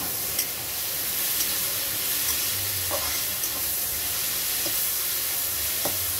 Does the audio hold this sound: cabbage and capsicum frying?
yes